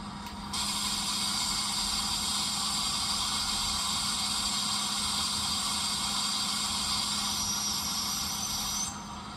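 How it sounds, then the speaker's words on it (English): Hiss of the brake release on a model steam locomotive, a steady broadband rush that starts abruptly, holds evenly for about eight seconds, then cuts off, over a faint low hum. "We have our brake release sounds."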